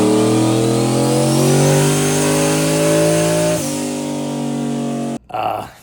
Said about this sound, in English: got on the dyno, made some pulls, as I'll show here